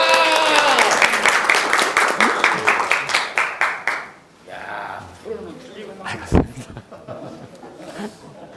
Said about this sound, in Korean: 이상으로 강의를 마칠 때 뜨거운 박수 함성으로 마치겠습니다